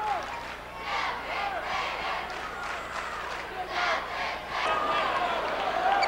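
A packed gym crowd cheers and yells during a 1997 Indiana high school basketball game featuring the Pike Central Chargers, a continuous roar with rising shouts that swells louder near the end.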